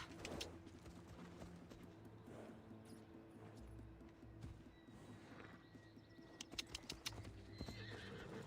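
Horse hooves clip-clop in a steady rhythm with a loud neigh near the end, set in the video game Assassin's Creed Odyssey, heard over a constant ambient game background.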